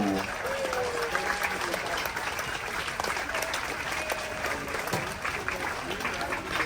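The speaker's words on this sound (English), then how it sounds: "if you think this dining room team deserves a thunderous applause for the fabulous job they have done this cruise, please let them know" Dining room team aboard the Royal Caribbean cruise ship Anthem of the Seas receives sustained, dense applause from a large audience, steady throughout with a few faint cheers mixed in.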